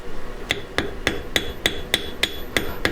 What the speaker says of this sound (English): why don't I switch to a little bit smaller forging hammer